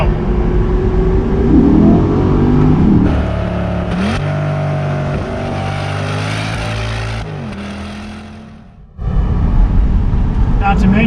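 A Corvette C8 with its mid-mounted LT1 V8 engine rumbles and revs, the engine note rising and falling under someone talking, then cutting out briefly before resuming.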